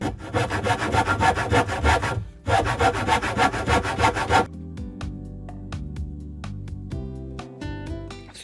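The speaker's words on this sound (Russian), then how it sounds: "сейчас работаю пилой." A hand saw cuts a wooden board to make table legs, giving loud, close, rhythmic back-and-forth strokes that pause briefly, resume, then stop as music takes over.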